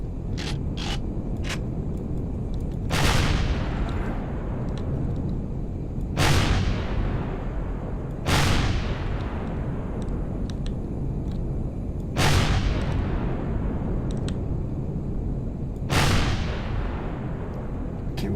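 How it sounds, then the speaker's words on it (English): Spaceship rockets in Empyrion fire in five loud whooshing blasts spaced a few seconds apart, each a sharp onset trailing off into a long decaying roar, with faint clicks in between over a steady engine hum. "Okay, I see the rockets going. So let me switch over to my rockets."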